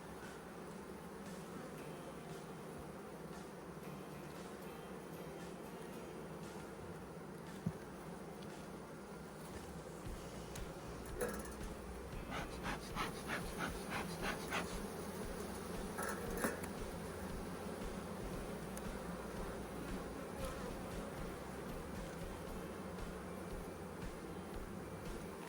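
Honeybees buzz in an open hive during a mite-wash check after formic acid treatment, a steady, faint hum that continues throughout, with a few soft clicks and handling noises in the middle.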